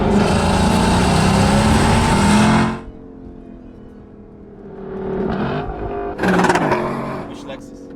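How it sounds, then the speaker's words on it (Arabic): Lexus LC500 convertible with a 5-litre naturally aspirated V8, its exhaust roaring loudly for a few seconds before dropping to a low idle, then swelling and revving again in shorter bursts, close by. "المفروض ان اللكزس لما تعمل انجن باكزوست ساوند المفروض ده اللي يكون صوته"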